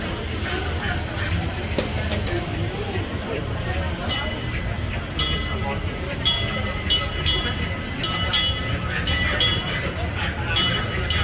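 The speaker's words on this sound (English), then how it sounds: "The Disneyland Limited, now arriving from a trip around Walt Disney's Magic Kingdom" The Disneyland Railroad train arrives at a station in Disneyland, with a steady rumble of rolling cars, metallic clinks and squeals of wheels under a crowd's chatter and people talking nearby.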